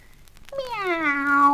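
A human voice imitates a cat's meow in a single long, nasal, falling miaow, close and fairly loud, as part of a spoken Swiss German Christmas story.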